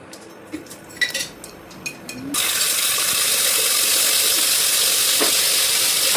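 Cumin seeds dropped into hot oil, opening with a few clinks and taps before a sudden loud, steady sizzle that continues to the end, with no talking.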